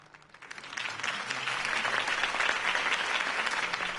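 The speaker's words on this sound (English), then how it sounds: "could have heard that applause" Steady applause from a large audience swells up quickly and holds at a full, even roar of clapping hands.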